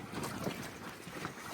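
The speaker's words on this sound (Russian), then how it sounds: "Прям с ног сшибательный ветер." Strong wind blows steadily against the microphone on a moving boat, a continuous broadband rush and buffeting at moderate level with no pauses.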